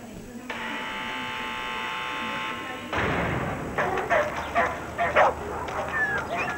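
Hunting dogs give a series of sharp, uneven barks in quick succession, fairly close, following a steady buzzing tone and a dull thump.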